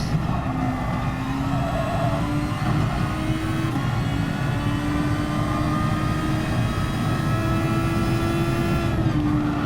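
A sim racing car engine in a video game holds a steady, loud high-pitched drone under throttle, pitch rising slowly through the turns, with no talking.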